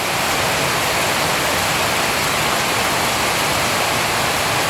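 Heavy rain suddenly pouring down in Daet, a loud, dense, unbroken roar of falling water that holds steady with no pauses or voices.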